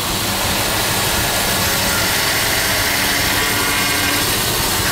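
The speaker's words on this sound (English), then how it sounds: "turn the steering wheel to a hard lock" A car's power steering is held at hard lock on a test, giving a loud, constant, rough whine and grind that stays the same throughout, with no voices.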